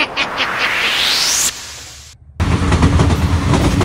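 A train approaching as a horror story effect, a rising roar and whistle-like sweep that cuts out briefly, then returns as a loud, close rumble of rolling cars.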